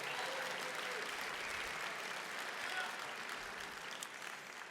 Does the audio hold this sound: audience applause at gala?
yes